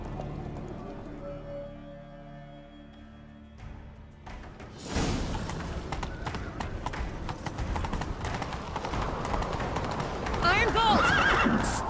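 A horse in The Witcher 3 video game neighs and its hooves pound in a fast gallop after a quiet stretch, a loud, sudden rush of hoofbeats with a whinny near the end.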